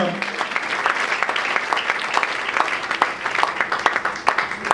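A church congregation applauds during evening prayer, with dense, sustained clapping from many hands filling the room at steady loudness and voices mixed into the crowd.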